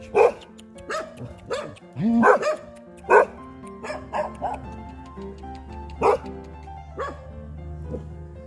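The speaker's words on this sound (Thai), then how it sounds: "สุนัขต้อนรับครับ" Several dogs bark at a hillside Buddhist temple in Chonburi, Thailand, a string of sharp, close barks and yips with short gaps between them, loud over a low engine hum from a parked motor scooter.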